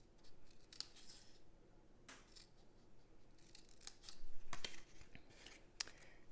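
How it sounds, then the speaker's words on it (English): Scissors snip through cardstock along short score lines in a handful of quick, close, crisp cuts spaced by brief pauses, quiet and alone without speech. "cutting up those short score lines."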